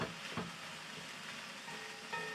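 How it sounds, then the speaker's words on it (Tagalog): Torta Kapampangan mixture with pork sautéing in a pan after its water has cooked off, giving a steady close sizzle and crackle with a few brief stirring bursts, no talking. "Marinig naman natin parang ito ginisa siya talaga niyan kasi yung water nawala na."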